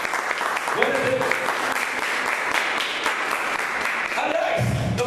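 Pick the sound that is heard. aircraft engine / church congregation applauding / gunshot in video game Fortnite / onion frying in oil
church congregation applauding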